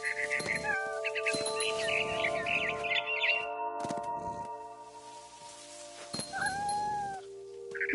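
A cat in the video game What Remains of Edith Finch meows and yowls amid chirping bird calls, with a soft tonal hum underneath; the calls come in short bursts, fairly close.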